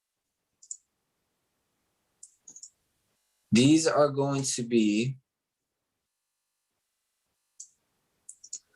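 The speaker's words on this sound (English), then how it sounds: "So I'm gonna be typing these up as we go." Computer keyboard typing, a few sparse, quiet clicks scattered before and after a short stretch of someone speaking, with near silence between them.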